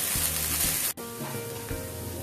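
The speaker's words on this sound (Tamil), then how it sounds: "இப்போ வந்து எடுத்து வச்சிருக்க இஞ்சி பூண்டு விழுது போட்டுங்க. போட்டு நல்லா கலருங்க." Ginger garlic paste sizzling in hot oil in a pan for chicken curry: continuous close, loud frying hiss, briefly dropping out, with a few stirring scrapes and no talking.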